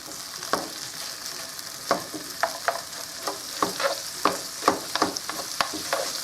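Fried rice stir-fried with soy sauce in a hot pan, a continuous sizzle punctuated by repeated sharp scrapes and clacks of the spatula tossing the rice, close and without talk.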